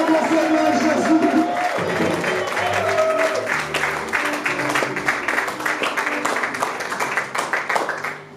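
A church congregation acclaims and applauds in honour of Jesus during a service, with scattered clapping and crowd voices rising over music-like tones early on, then settling into a steady, fairly loud wash of applause.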